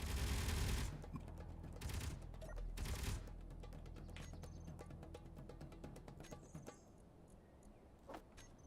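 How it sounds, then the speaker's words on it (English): Rapid Gatling gun test fire in a video game, a dense rattling burst loud at the start and then continuing more faintly with scattered mechanical clicks and bangs. "Oh, still got Gatling guns. Oh, interesting. Test fire."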